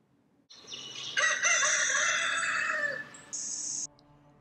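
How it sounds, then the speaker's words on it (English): A rooster crows once, a clear, fairly close call that rises and holds before tailing off, followed by a short high squawk; the surroundings are otherwise quiet with no voices. "Just then, the rooster crowed a second time."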